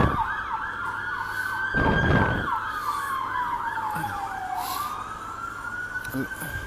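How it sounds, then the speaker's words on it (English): Police car siren wailing in repeated rising and falling sweeps as the vehicle passes nearby, its pitch dropping as it moves away over a background of road traffic rumble. "let the police go by"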